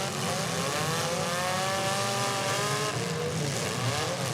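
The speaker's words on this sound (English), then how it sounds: "That Volvo is still rolling" A Volvo keeps driving in a mini demolition derby, its engine droning loudly and continuously with rising revs, heard at a distance against a noisy arena background.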